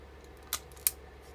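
Two crisp snips in quick succession as scissors cut through thin wires for a homemade high-speed RC fan, close and sharp against a quiet background.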